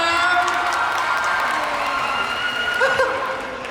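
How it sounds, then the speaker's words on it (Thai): Fans cheer, scream and applaud together at a Seacert Forest Cleansing fan event for the K-pop idol BamBam, a steady, dense crowd roar throughout with shrill whoops rising near the end. "ทุกคนปรบมือ"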